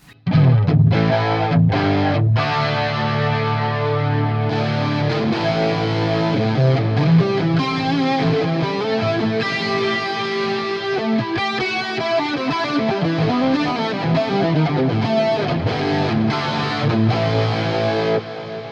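Heavily distorted electric guitar through a Bogner Ecstasy amp simulator plugin plays a sustained, chunky riff with chord stabs, loud and continuous, with no voices.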